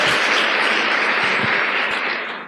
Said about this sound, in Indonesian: Tepuk tangan untuk vision seminar.